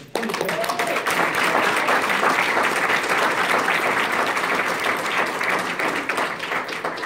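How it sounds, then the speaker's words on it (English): Sustained applause from a large audience at a talk, a dense wash of many hands clapping that swells quickly and holds steady for several seconds, with faint voices mixed in. "if anybody deserves a round of applause, it's her for what she's doing"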